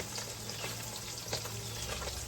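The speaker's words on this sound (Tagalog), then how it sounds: "Luto-luto muna tayo ng galunggong, pritong galunggong para sa tanghalian ng mga tao natin." Steady, crackling sizzle of galunggong (round scad) frying in hot oil in a pan, close and continuous, with faint spatters and stirring and no voices.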